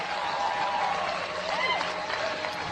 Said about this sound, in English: Get old man a round of applause.